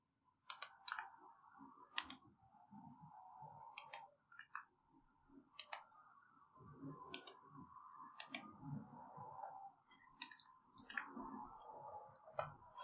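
A computer mouse clicks in short, sharp bursts at an irregular pace during a satellite imagery download tutorial, close and clear over a quiet background.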